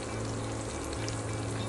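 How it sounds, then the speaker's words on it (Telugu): Cumin, garlic and curry leaves sizzle in hot oil for a tempering, a dense and even crackling hiss heard close up, with no voices. "జీలకర్ర వేసి, ఎల్లుల్లిపాయ వేసి, కరివేపాకు వేసి."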